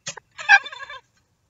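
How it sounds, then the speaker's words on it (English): A short electronic chicken squawk from a Boom Boom Balloon party game: a quick cluck, then a louder warbling squawk lasting about half a second, heard alone and close. "Chicken."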